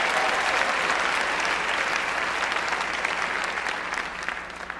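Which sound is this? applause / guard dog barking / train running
applause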